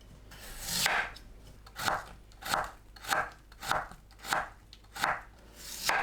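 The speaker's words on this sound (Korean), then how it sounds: "무를 채 썰어 주세요." A knife julienning peeled Korean radish on a cutting board for a crisp radish salad, with about eight evenly spaced crunchy chops, each a short rasping stroke, close and clear with quiet gaps between, no voices.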